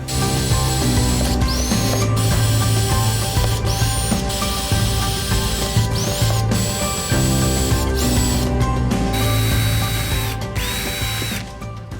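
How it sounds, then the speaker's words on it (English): A power drill whines in repeated bursts, biting through a plastic bin with rising pitch sweeps, loud and close, pausing briefly between holes. "now that we've drilled the holes across the bottom, I'm gonna do the same thing on the top here"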